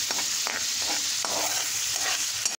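Water for lemon vermicelli boiling in a pan, a close, continuous hiss and bubbling with a few sharp pops and clinks, ending in a sudden knock.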